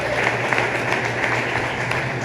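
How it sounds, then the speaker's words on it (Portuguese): Congregation applauding during a church service, a steady wash of clapping with a faint background hum, continuous and even throughout. "Você pode aplaudir ao Senhor."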